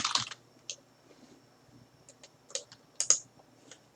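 Close, irregular keystrokes on a computer keyboard while entering a label in Elipse SCADA software: a quick burst of clicks, then scattered single taps and a short flurry near the end, all crisp against a quiet background with no talking.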